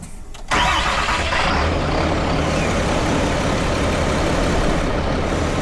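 Cummins 6.7 HO diesel engine in a pickup cranking briefly, then firing up into a loud, dense clattering idle that holds steady and close, with no talking.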